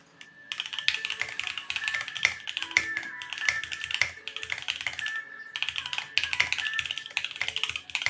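A mechanical keyboard fitted with GMK Taro keycaps is typed on steadily, with close, crisp key clacks in quick bursts and brief pauses and no talking.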